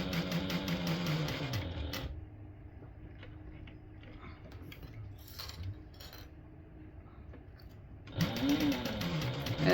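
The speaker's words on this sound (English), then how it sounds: "So I'm just basting this using a 1/4 inch seam allowance." A sewing machine bastes a vinyl tote bag with a 1/4 inch seam allowance, its loud rapid whirring stitch running for about two seconds, pausing with faint handling clatter, then starting again near the end.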